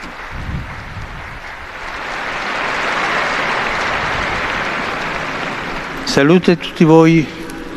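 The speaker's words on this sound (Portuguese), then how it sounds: "Um aplauso aos novos beatos." A large crowd of faithful and pilgrims at the Vatican applauds newly beatified blesseds, a broad, distant wash of clapping swelling and holding, with a voice speaking briefly at the end.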